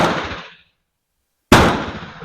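Two sharp, loud M4 rifle shots ring out about a second and a half apart at an outdoor range, each a hard crack with a trailing echo, with silence between them.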